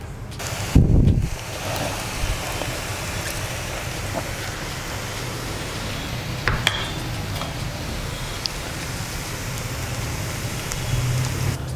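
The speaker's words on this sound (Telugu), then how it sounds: "ఇప్పుడు ఇది లైట్గా వేగిన తర్వాత మనం చూసారా స్ట్రైనర్తో ఇలా తీసేసుకుందాం ఫస్ట్" Aloo bhujia fries in hot oil with a constant dense sizzle and bubbling, and the strainer scrapes and clanks as the pieces are lifted out. A thump comes near the start, with scattered clinks later.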